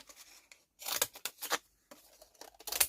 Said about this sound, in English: Let's get some of these fancy edge scissors and let's cut around it.